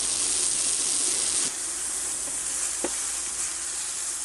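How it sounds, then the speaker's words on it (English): Porcini mushrooms sizzle in olive oil in a cast iron pan on a Lodge Sportsman's grill, a steady loud hiss with a brief stir or scrape near the end. "I'm gonna throw in some porcini mushrooms. I'll let them start getting the color on them."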